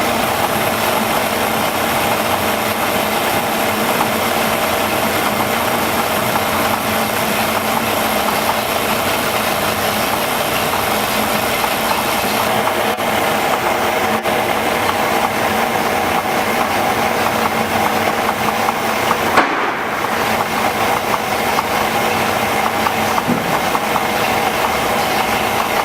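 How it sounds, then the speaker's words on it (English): A car engine idling in a steady, close drone during ignition timing adjustment, with the revs settling lower as it enters timing mode; no talk. "you'll hear a difference in the engine RPM. It drops. That means it's in timing mode"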